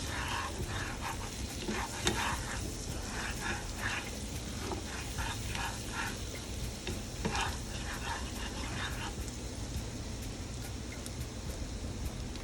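Minced garlic sautéing in a pot, a soft continuous sizzle with occasional stirring scrapes, fairly quiet and without talk.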